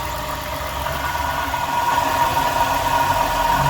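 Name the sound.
abnormal engine noise from customer's car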